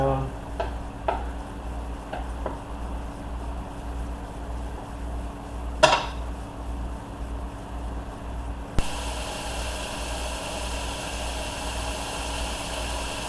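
Rice fries in a pan with a soft, continuous sizzle beneath a low steady hum. A few utensil clinks break through, and a sharp scrape comes near the middle. The frying grows brighter and louder for the last few seconds.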